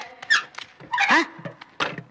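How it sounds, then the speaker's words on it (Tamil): A door swings shut with several creaking, squeaky bursts from its hinges, loud and close, with short pauses between them. "கதவு மூட போறேன், தள்ளுங்க."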